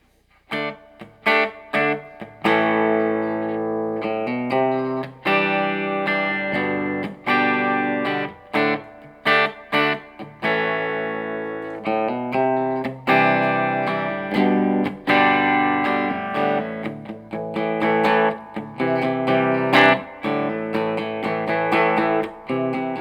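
Distorted electric guitar played through a Fender Sonic 22 amplifier, a steady run of chords and riffs with short breaks, loud and close, no voices.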